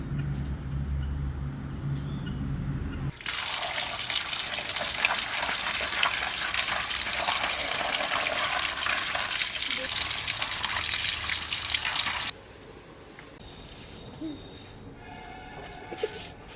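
Tap water gushes loudly and steadily over raw chicken meat being washed for a timbur chicken dish, following a brief stretch of quieter kitchen noise, then cuts off to faint trickles and light clatter.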